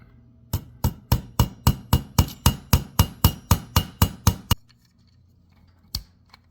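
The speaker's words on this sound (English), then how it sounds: "I just improvised a hammer with my vice grips and one of my punches." Vice grips used as a hammer strike a metal punch in rapid, evenly spaced metallic blows, about fifteen in a row, then a pause and one final sharp hit.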